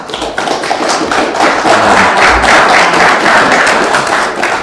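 Sustained applause from an audience at a council meeting, a dense, loud clatter of many hands clapping steadily for several seconds without a break.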